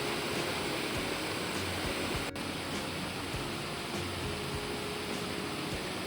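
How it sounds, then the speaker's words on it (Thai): A waterfall in Prachuap Khiri Khan, Thailand, flows as a steady, even rush of water, a broad unbroken hiss that stays constant throughout with no talking. "ฟังเสียงน้ำแล้วก็เพลินใจมากๆเลยค่ะ"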